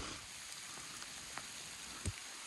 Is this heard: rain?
yes